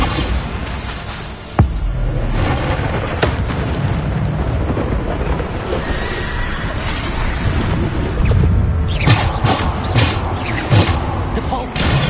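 Repeated Bombarda spell blasts from the video game Hogwarts Legacy: a steady roar of rumbling explosions and crashes, with sharp bright bursts near the end, loud and continuous with no clear gaps between impacts.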